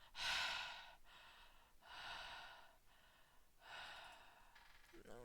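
Three slow, heavy breaths through the nose come close to the microphone in a steady rhythm, each a long, airy rush separated by a short pause.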